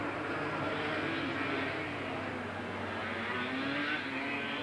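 250 production racing motorcycles on a race track in a 1985 series, a steady distant engine drone with a faint rising whine as the bikes carry on.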